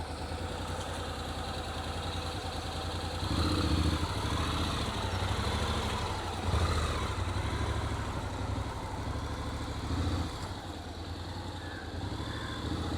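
Motorcycle engine running steadily through slow-speed riding practice, throttle held smooth with small swells in revs over a constant low idle-like rumble, no talk.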